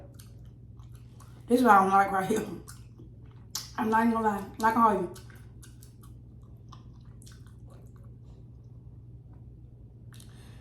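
Green lip mussels are chewed close to the mouth in a soft, wet, continuous mastication under a steady low hum, while a person speaks in two short bursts.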